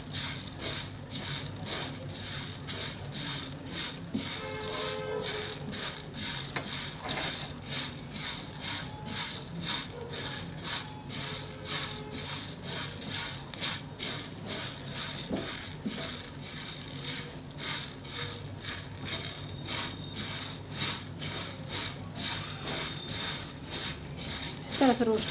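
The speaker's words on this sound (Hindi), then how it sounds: "तो हमने साबूदाने को पैन में डाल दिया है, तो इसे थोड़ा रोस्ट कर लेंगे।" Sago pearls roasting in a pan over low heat give a continuous light rattling and pattering, with small clinks as they are stirred throughout, faint and close with a voice occasionally heard.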